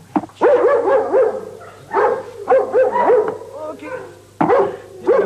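Search and rescue dog in a cave, barking in several loud, close, echoing bursts with whimpering yips between them.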